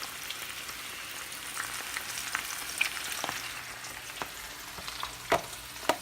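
Home fries frying in a pan give a steady, fairly quiet sizzle and crackle, with occasional louder pops and light stirring clicks.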